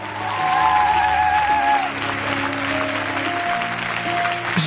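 A church congregation claps and cheers for the Lord, dense sustained applause from a crowd filling the hall, with music and voices running underneath.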